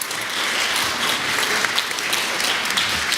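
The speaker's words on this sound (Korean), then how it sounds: "큰 박수로 환영해 주시기 바랍니다." Audience applause welcoming a lecturer at a public lecture on international relations, a large crowd of about a hundred people clapping steadily and loudly throughout, with no voices over it.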